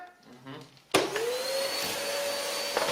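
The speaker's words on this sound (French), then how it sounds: "Allez, on va voir comment il fait l'aspirateur, ce grand garçon là." A vacuum cleaner switches on abruptly after a quiet stretch of faint background noise and then runs at a steady, loud whine close by.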